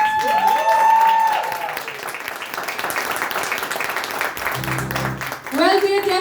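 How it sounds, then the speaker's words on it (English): Applause from a pageant audience rolls on steadily beneath loud stage music with a sustained tone and a later melodic flourish, the clapping dense but partly masked by the music. "Can we have 400 claps?"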